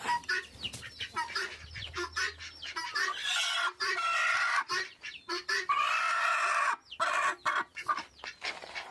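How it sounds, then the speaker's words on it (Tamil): Black and yellow hens sitting on eggs cluck and squawk in a dense, busy chorus, close and fairly loud, with rapid overlapping calls and brief pauses. "மஞ்சள் கோழி இங்கே உட்காந்துருக்கு, அதுதான் அடைக்கி உட்காந்துருக்கா என்னன்னு தெரியல"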